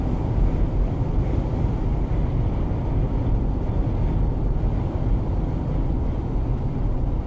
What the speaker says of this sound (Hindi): हवा बहुत ही ज़्यादा तेज है